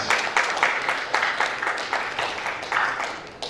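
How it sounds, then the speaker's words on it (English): Audience applause at a mental health act sensitization workshop, a steady wash of many hands clapping throughout, fairly close and moderately loud, with no clear talk over it. "We need to clap for Ogun State for this."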